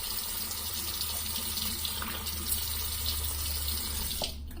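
Tap water runs steadily into a sink for a rinse between shaving passes, a continuous close splashing flow that cuts off abruptly near the end.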